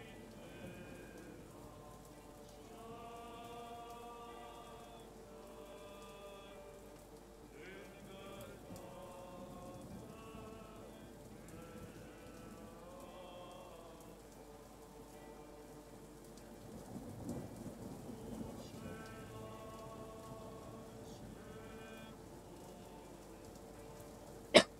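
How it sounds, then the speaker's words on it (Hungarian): Rain in the horror video game Gray Dawn falls as a soft, steady patter throughout, faint and under recurring tonal game sounds, with a brief louder hit at the very end. "most itt is a játékban esik az eső, és itt nálam is, nálunk is esik az eső"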